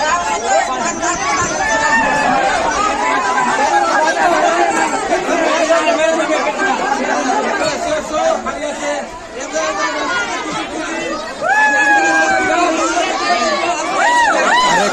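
Passengers crowd a train bound for Jayrambati, their chatter forming a loud, continuous babble of overlapping voices with occasional louder calls.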